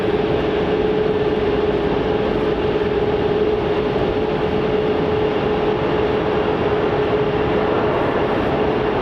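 A plane departing from runway 27 at Melbourne Airport gives off a loud, steady jet roar with a sustained tonal whine, holding constant throughout with no voices.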